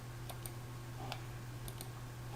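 A few light computer mouse clicks, faint and isolated against a steady low hum, as a right-click is made in a spreadsheet.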